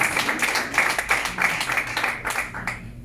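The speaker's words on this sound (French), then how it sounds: "Nous allons applaudir pour lui." An audience at a ceremony honouring Koffi Olomide gives a short burst of applause, heard as fairly close, uneven clapping that thins out at the end.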